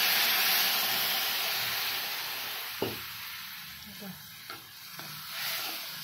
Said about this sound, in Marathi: आता कांदा छान परतून घेतलेला.